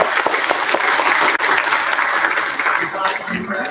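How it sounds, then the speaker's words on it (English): Steady, dense applause from an audience at the Europe on Screen 2024 film festival opening ceremony at GoetheHaus Jakarta, loud and sustained throughout with a brief dip midway. "Can we give a round of applause and welcome"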